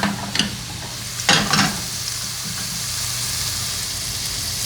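Garlic cauliflower rice sizzles and fries steadily in a pan, with a couple of brief stirring scrapes early on and then an even, continuous hiss.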